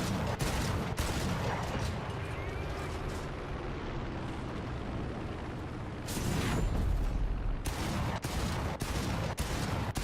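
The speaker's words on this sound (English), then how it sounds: "a teammate is shooting at me on the ground" Heavy, continuous gunfire from a teammate in War Thunder, a loud rumbling barrage with a brief lull midway and sharp cracks returning toward the end.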